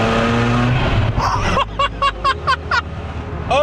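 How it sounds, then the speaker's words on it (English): A loud twin-turbo rotary engine car revs hard and accelerates, then a series of sharp, rhythmic bursts as it shifts or pops, quite close. "This car has a rotary engine, and not only a rotary, has a rotary with twin turbos."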